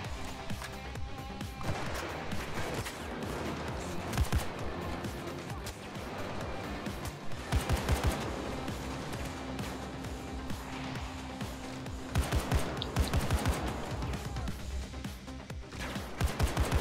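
Gunfire in the video game Payday 2: repeated bursts of automatic fire and single shots in clusters, loud and close over a busy game soundscape, with no talk.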